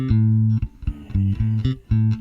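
A bass guitar runs through a bass preamp with passive, interactive tone controls and the mid control turned down, playing loud, deep, punchy notes in short phrases separated by brief gaps.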